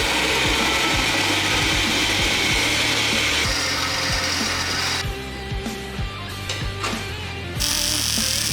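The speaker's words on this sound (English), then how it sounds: "We've got our first piece on the saw here." A shop saw cuts metal pieces at 45 degrees for a custom desk, giving a loud, steady grinding whine with repeated rhythmic ticks, then easing briefly before the full cutting roar returns.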